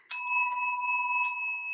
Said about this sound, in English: Just ring the bell, wait for them to quiet down